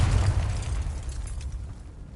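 A Confringo fire-blast spell explodes in the Hogwarts Legacy video game: one short, loud, low burst that fades into a dull rumble within about two seconds, with no talking.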